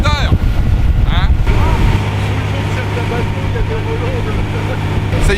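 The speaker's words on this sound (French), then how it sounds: "on entend bien le moteur." A boat motor drones steadily during a chefs' sailing regatta, a low continuous hum under strong wind buffeting on the microphone, with a voice briefly over it at the start.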